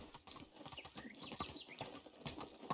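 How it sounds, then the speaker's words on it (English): Horse hooves clip-clopping steadily while riding in the Medieval Dynasty video game, a continuous rhythmic run of close, moderately loud hoofbeats. "This horse, it is quite difficult to ride it sometimes."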